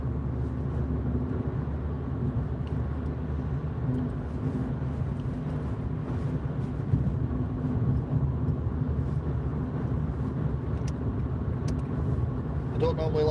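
A car cruising along the East Lancashire Road, the A580, in fog in Greater Manchester gives a steady low rumble of engine and road noise, continuous and fairly loud from inside the cabin, with someone speaking over it.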